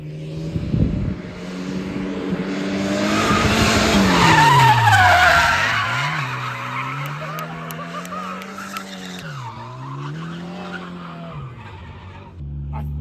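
Drifting cars, a Volvo 740 and a Miata, tires squealing loudly in a long sustained skid with engine revving underneath, the squeal rising and falling across the run before easing off.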